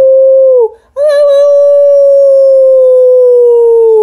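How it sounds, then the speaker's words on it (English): A dog lets out a long, high, wavering cry, breaking briefly before resuming as a sustained yelping howl, loud and close with no talking. "Well, he doesn't really bark. He yelps."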